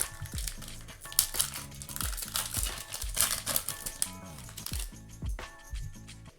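Foil wrappers of 2025 Bowman Chrome trading card packs crinkle and tear as they are ripped open, close and busy with rapid crackling, rustling and tapping for several seconds.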